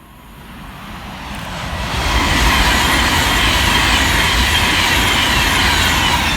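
A Class 390 electric train roars through Lichfield Trent Valley station, a broad rushing rumble that swells over the first two seconds and then holds steady and loud, close by, with no voices.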